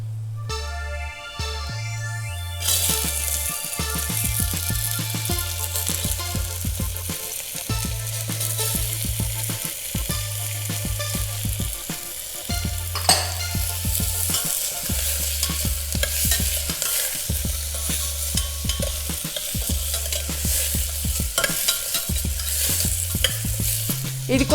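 Potato pieces fry in hot oil in a pan and get stirred with a spatula throughout. The steady sizzle runs underneath, broken by repeated scraping stirs and a low rhythmic hum.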